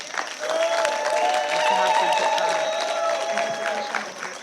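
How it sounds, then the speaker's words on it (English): Conference audience applauding at a closing plenary, a full, sustained round of clapping with a faint tonal hum or voice running underneath, steady throughout. "please join me in thanking them with the loudest round of applause"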